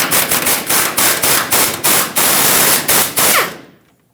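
Loud, close bursts of a pneumatic impact wrench spinning 13mm fuel tank strap bolts off the frame of a 2008-2010 Ford F-250 5.4L, about a dozen rapid rattling pulses over four seconds before the tool stops and goes quiet.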